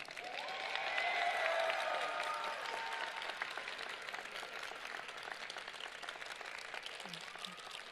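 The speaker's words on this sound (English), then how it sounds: "let's give our family and friends a round of applause" An audience of family and friends at a graduation ceremony applauds, dense clapping swelling early then holding steady at moderate distance for about eight seconds, with no speech over it.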